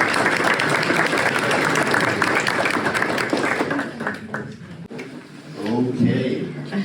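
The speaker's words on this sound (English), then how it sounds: "So without any further ado, please join me in welcoming Tom." An audience bursts into steady, loud applause as a speaker is welcomed at a transportation talk in Tucson, the clapping filling the room before thinning out and leaving a voice at the end.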